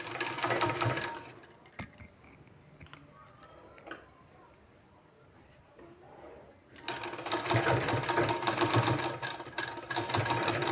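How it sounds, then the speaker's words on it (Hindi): A sewing machine stitching a fabric sleeve, running loud and close in steady rattling bursts with a quieter pause in the middle while the cloth is handled. "यहाँ हमको सिलाई लगा देना है"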